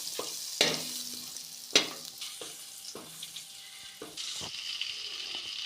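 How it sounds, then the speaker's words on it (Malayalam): Salted butter melts and sizzles in a pan with a steady soft hiss, broken by a few sharp clinks and scrapes of a utensil against the pan. No one speaks. "ബട്ടർ ഒന്ന് മെൽറ്റായിട്ട് വരട്ടെ."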